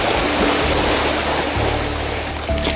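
Sea waves crash and surge against the shore of an island at low tide, a loud, constant broadband wash with a low rumble underneath and no voices.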